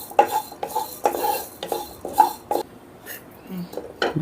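Coriander seeds dry-roast in a pan while a spoon scrapes and stirs them in repeated, rhythmic strokes that rattle the pan loudly up close, with a brief cough and a little faint background sound.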